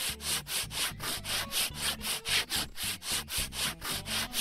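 A power sander works over walls in the video game Garage Flipper, a rhythmic back-and-forth rasping scrape repeating roughly every third of a second, close and steady with no talk.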